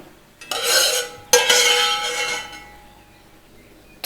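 A spoon stirs flower petals in a saucepan in two scraping, rattling passes, each starting with a sharp clink and fading out, close and alone.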